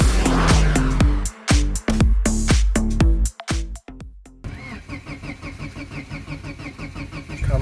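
A BMW project race car's engine cranks in repeated stuttering bursts, then catches and settles into a loud, uneven idle, starting roughly after sitting unused for a long time.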